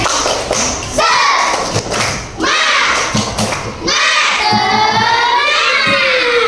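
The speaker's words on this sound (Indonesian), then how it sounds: "Oke, kita mulai ya. Tepuk semangat." A class of schoolchildren performs the tepuk semangat clapping chant, with loud group shouting broken by heavy, rhythmic claps and thuds close by.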